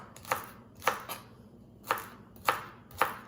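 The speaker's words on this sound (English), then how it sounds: "I just might give it a rough chop." A long kitchen knife roughly chops red potatoes on a cutting board, with six sharp, close thunks spaced unevenly about half a second apart and no talking.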